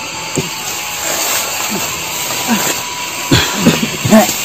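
A strong wind rushes and roars in a loud, steady broadband hiss, swelling in gusts, while voices speak over it.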